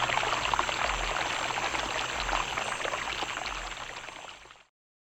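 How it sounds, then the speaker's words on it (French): Running water in a forest stream, a steady close rush and trickle with a soft bubbling texture that holds evenly for several seconds and then cuts off. "le ruisseau, comme s'il avait été inspiré, recommença à murmurer doucement"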